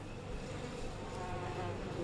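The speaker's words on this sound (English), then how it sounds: "Oh shit, those are bees." Swarming bees in the video game We Happy Few give off a steady, dense insect buzz that holds at an even, moderate level for the whole couple of seconds, with no talk over it.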